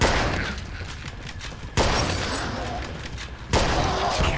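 Gunfire in the zombie FPS video game Unkilled comes as repeated bursts of loud shots, with sharp onsets about every two seconds and a continuous clattering in between.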